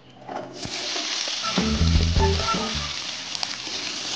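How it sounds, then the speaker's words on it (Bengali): Cut potatoes dropped into hot oil in a kadai, a loud sizzle swelling as they hit the pan, with a few stirring clatters and continuous crackling frying. "কেটে রাখা আলুটা দিয়ে দিলাম।"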